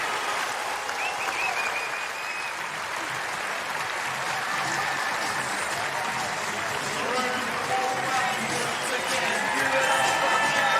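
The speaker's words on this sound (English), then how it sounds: "And she can take the applause." A US Open tennis crowd applauds the winner of a third-round women's match, a broad sustained roar of clapping filling the stadium, with a commentator's voice talking over it.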